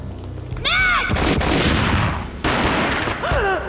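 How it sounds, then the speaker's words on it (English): Gunfire erupts in the Max Payne remake video game, a loud boom and a sustained volley of shots following a short cry. Another burst comes midway, and a voice returns near the end. "A gunshot boomed and she fell down in slow motion."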